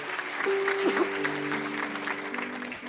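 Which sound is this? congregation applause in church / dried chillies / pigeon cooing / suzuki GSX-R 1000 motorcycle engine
congregation applause in church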